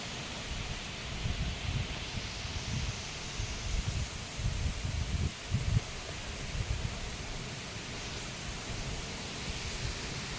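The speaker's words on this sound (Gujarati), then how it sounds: "આવ્યો પવન હો રાની પવન આવ્યો" Strong wind tearing through the coconut trees of a farm orchard in rainy weather, a continuous roaring rush of leaves with slightly stronger gusts in the middle, with no voices.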